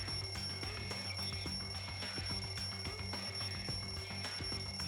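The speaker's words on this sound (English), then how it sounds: "The wall clock just started ringing." Inside a video game, a wall clock rings like an alarm clock, giving a continuous rapid metallic bell clatter with steady ticking pulses throughout, moderately loud and unbroken, with no one talking.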